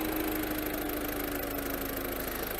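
A Volvo C30's 1.6 litre diesel engine idles steadily and smoothly, with an even, continuous hum and no rattles or knocks, heard alone and close up.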